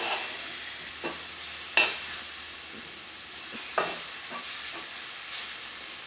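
Tomatoes with salt being stirred in a hot pan for a Kerala bitter gourd curry: a loud continuous sizzle and hiss, broken by a few soft scraping strokes of the spoon against the pan, close and without voices.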